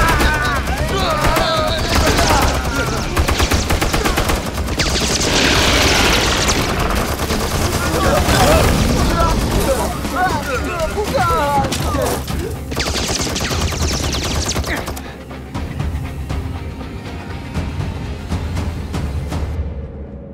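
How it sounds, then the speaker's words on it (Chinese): Concentrated gunfire from a massed firing squad in an animated fantasy series rattles continuously in loud, dense bursts with booming hits. Dramatic music and effects play underneath, and the volume drops sharply near the end. "全体集中火力射击！"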